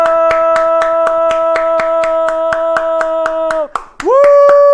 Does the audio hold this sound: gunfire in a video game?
no